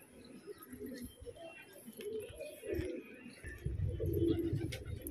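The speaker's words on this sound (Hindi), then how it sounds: "एक एक दो दो कबूतर देखिए" Pigeons cooing close by, soft low throaty coos rising and falling over a few seconds, with faint rustling and movement in the background.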